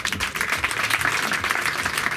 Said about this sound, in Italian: a cui va dedicato un grande applauso